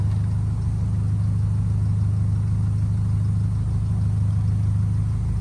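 A lowered Volkswagen Polo's engine hums steadily and loudly at close range, a low, even drone with a faint rhythmic pulse as the car rolls forward, with no talk over it.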